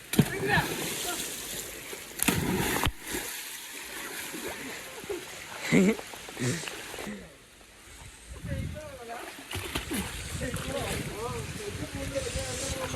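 A person jumps into icy water at a forest resort in Wayanad, Kerala, making splashes and sloshing amid steady water and wind noise, with voices talking and exclaiming throughout.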